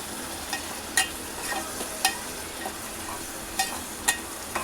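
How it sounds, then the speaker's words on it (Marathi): Mustard seeds crackling in hot oil for a tempering, a faint steady hiss broken by sharp scattered pops and clicks at irregular intervals, close by, no talking. "आता आपण ह्याच्यामध्ये ना तडका देऊया राईचा, म्हणजे मोहरीचा."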